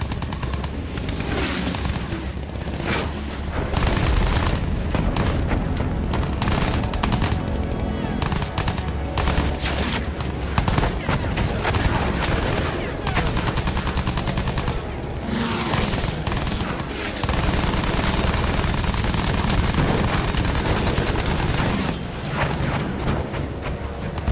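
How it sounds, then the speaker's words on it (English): Anti-aircraft gun fire and heavy gunfire in Battlefield 1 during a plane mission, dense continuous bursts and booms filling the whole stretch, loud and close, with occasional louder blasts. "AA gun! Hold tight!"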